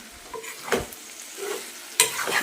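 Pumpkin vegetable with grated fresh coconut stirred in a pan, a few soft scraping strokes with a light sizzle beneath, one sharper clack near the end.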